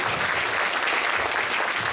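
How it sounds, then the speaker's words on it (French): Steady applause from a crowd, dense and continuous clapping throughout, fairly loud with no talking over it. "On va vous applaudir"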